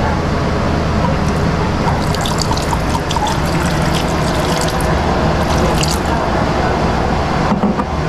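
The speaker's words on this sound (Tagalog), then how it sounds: "at lalagyan na po natin ng toyo" Soy sauce pours into a pot of meat, onion and garlic for Filipino adobo, a steady close trickle of liquid lasting several seconds with no talk.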